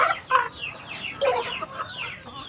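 Chickens clucking and chattering near a morning feeding on a farm shared with goats and Muscovy ducks, several birds calling in short overlapping bursts, fairly close, with no talk.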